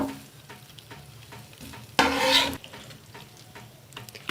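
Roasted chicken masala in a biryani pot is scraped and pushed aside with a spoon, soft sizzling and stirring under background music, with one loud brief scrape burst midway.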